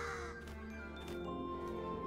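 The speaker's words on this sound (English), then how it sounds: "Is that a crow?" A crow caws in the video game Gravity Rush, giving a few harsh, fairly close calls in quick succession over a low, steady background ambience.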